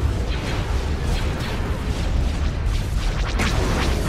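Cannon fire and explosions in Star Wars: Empire at War space combat come as a dense, continuous low rumble with repeated booms and bursts, loud throughout.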